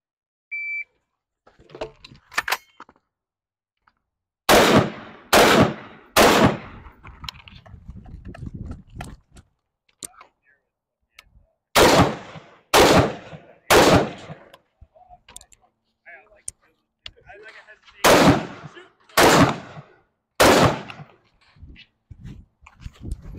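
Rifle gunfire on a timed shooting stage, delivered in rapid strings of two to three loud, sharp shots with pauses between groups, preceded by a beep, with brief clatter and movement noise in the gaps.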